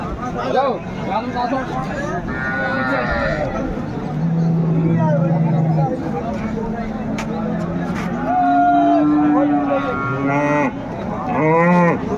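Cows and calves at a busy rural cattle market in Dinajpur, with repeated loud, close moos and lowing over a crowd of people talking.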